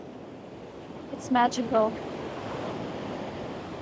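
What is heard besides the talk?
ocean waves crashing on sandy beach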